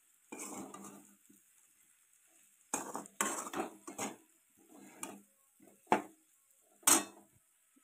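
Spiced potato and peanut curry being stirred in a pan, with scraping and clinking of a spoon against metal in irregular bursts and a light sizzle, separated by quiet pauses.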